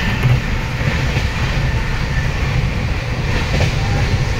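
The Patna Howrah Jan Shatabdi Express runs on after leaving Bakhtiyarpur Junction, heard from inside a 2S class coach as a steady loud rumble with rattling wheels and no voices.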